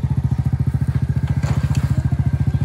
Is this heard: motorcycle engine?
yes